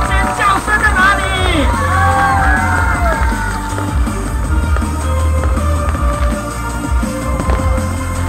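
A crowd at a live performance with acrobatic stunts cheers loudly, with high whoops and screams rising over dense applause and babble, close and sustained.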